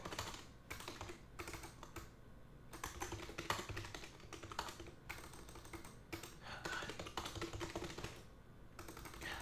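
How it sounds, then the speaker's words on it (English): Quick bursts of typing on a computer keyboard, close and clattery, with short pauses between runs of keystrokes and no talking. "Hold on, let me just type it up real quick."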